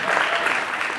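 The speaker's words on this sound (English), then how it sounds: "Give her a round of applause," Audience applause at a film festival, a dense steady wash of clapping hands filling the whole moment at close, even loudness.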